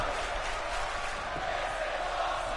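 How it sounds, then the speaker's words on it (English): Crowd noise from a WWE 2K19 wrestling house show match, a steady broadband roar of an arena audience chanting, held evenly throughout at moderate loudness with no clear speech. "And the crowd chanting, this is awesome."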